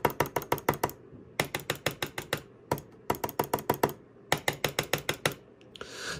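Razer DeathAdder Essential and Elite mouse buttons click in quick bursts of about six to eight sharp, close, crisp taps, each burst set apart by short pauses, with no talking.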